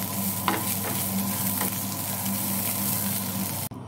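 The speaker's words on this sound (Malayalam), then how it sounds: "ഇനി നമ്മളിട്ടിരിക്കണം മല്ലിയില, അതും നമുക്കൊന്ന് വാട്ടിയെടുത്തേക്കാം" Coriander leaves sizzling and being stirred in a pan for rice flake ada, a soft steady fry with a few brief scraping clicks and a sharp knock at the end.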